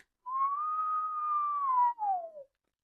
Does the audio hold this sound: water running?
no